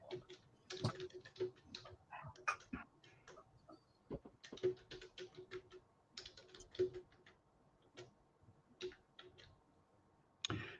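Someone types on a computer keyboard in quick, irregular runs of faint clicks with short pauses between them, heard alone at low volume.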